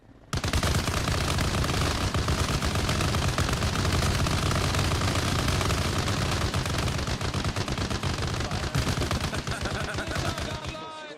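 GPMG machine gun firing rapid bursts at a commando milsim training event, loud and close, dense continuous cracks for about ten seconds with no pause.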